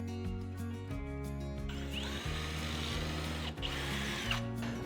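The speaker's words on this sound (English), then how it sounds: "I'm just going to take the jigsaw and cut that little notch out" Jigsaw cutting a small notch in a pine board, a close buzzing motor with rapid blade chatter, rising and stopping in short bursts over a few seconds.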